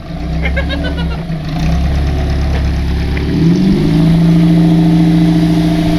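A vehicle bought off Facebook Marketplace drives loudly and close by, its engine droning steadily and then rising in pitch as it picks up speed partway through, with no talking over it.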